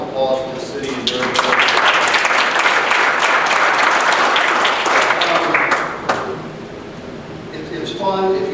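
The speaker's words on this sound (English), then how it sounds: "let's have a round of applause for the city" Applause from a chamber of commerce luncheon audience in Murphy swells into a dense, loud wash of clapping that holds for several seconds, then thins out as a voice resumes talking.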